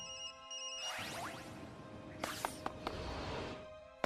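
A phone rings inside a backpack in an empty elementary school classroom, a repeating electronic ringtone with faint clicks and small knocks, heard alone with no voices.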